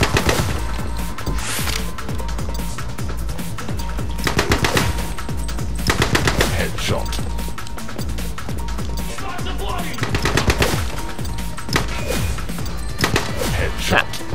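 Dense, loud automatic gunfire in The Club video game rattles almost continuously, with bursts and impacts layered over one another and occasional louder crashes.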